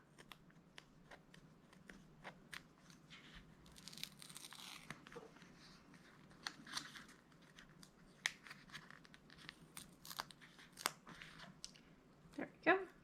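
Paper is trimmed with scissors at a desk while decorating a Christmas planner layout, giving faint, scattered snips and crinkles at a low level under occasional quiet talk.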